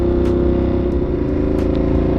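Ducati Monster 1200S motorcycle fitted with an aftermarket Avionic exhaust, a steady deep idle-like engine rumble with a throbbing low pulse, close and loud throughout, with no talking.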